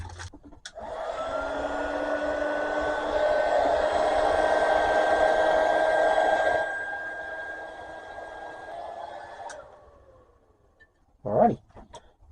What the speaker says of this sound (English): now I'll heat shrink these up.